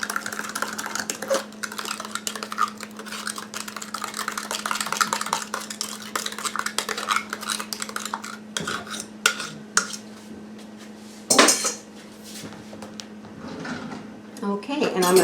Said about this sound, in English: I'm just going to take a fork and I'm just going to mix that together just like that